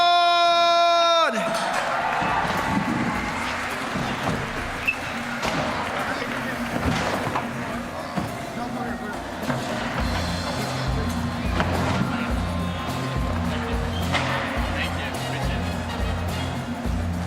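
Spectators at the Simple Session skateboarding finals in Estonia cheer and whoop for a skater during the podium announcements, a noisy, bustling crowd roar with thuds and shouts under an announcer talking over music.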